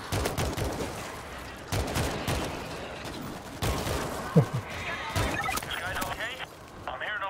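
Gunfire in the zombie shooter World War Z: sharp, scattered shots spaced a second or two apart, with game voices and background noise between them.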